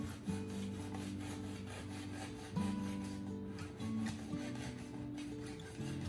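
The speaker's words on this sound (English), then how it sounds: "So I'm gonna slice a few slices of the bread and let you guys see what the inside looks like." A bread-slicing gadget cuts through a keto lupin flour loaf with quiet, repeated rasping strokes, like a small saw rubbing back and forth in an even rhythm. No one talks.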